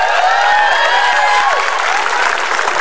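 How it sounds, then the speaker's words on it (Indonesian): Loud, dense applause from a television studio audience, continuous clapping throughout with a few faint whistles or voices mixed in. "Tepuk tangan untuk Pak Prabowo."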